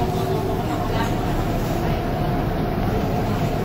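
Steady low rumble of an LRT light rail train in motion, a constant droning roar with rattling underneath and no clear breaks.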